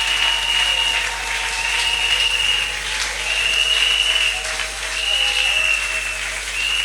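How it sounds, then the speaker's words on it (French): Church congregation applauding steadily at a Sunday worship service, a dense, sustained clatter of hand claps filling the room with no pauses. "Est-ce que nous pouvons l'acclamer encore?"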